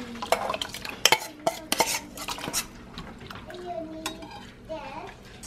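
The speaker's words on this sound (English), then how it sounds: "So you have to keep checking because milk will come up, so you have to keep stirring." A spoon stirs milk and rice coming to a boil in a pot, giving irregular clinks and scrapes against the metal, close by, while people talk over it.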